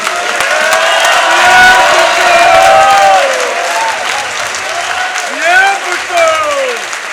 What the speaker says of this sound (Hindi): नारे न लगाइए प्लीज, नारे ना लगाइए, नारे ना लगाइए, बेशक तालियां भी ना बजाइए